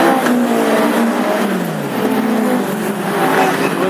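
Classic hot rod race cars lap an oval track at Hednesford in a heat, engines roaring loud and continuous as several cars jostle close by, pitch dipping and rising while they race.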